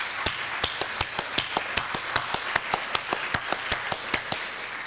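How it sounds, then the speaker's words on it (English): Lecture audience applauding event organizers, dominated by one nearby pair of hands clapping in a fast, even rhythm of sharp claps over a softer wash of scattered clapping. "Will you join me in a round of applause thanking them for their work?"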